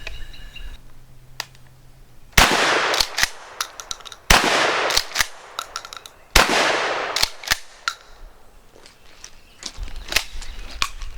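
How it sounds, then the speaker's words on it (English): An Akkar Model 300 12-gauge pump shotgun fires turkey loads outdoors, letting off three loud, sharp blasts a couple of seconds apart, each followed by echoing decay and the clack of the pump action. "We'll shoot Mr. Green a couple times with some turkey loads"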